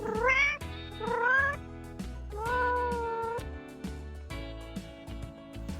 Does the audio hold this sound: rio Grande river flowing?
no